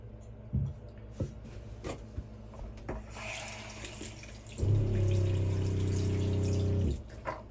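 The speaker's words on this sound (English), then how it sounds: "And that's the water pump. It's super loud." A loud water pump kicks in indoors after a few seconds of scattered clatter and small knocks, holding a steady droning hum for about two seconds before cutting off.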